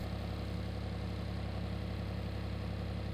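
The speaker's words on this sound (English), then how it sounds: "With engine at idle, disengage cutter wheel and wait for it to stop." A stump cutter engine idles with the cutter wheel disengaged, giving a steady, dense, close mechanical drone with an even vibrating pulse and no change in speed.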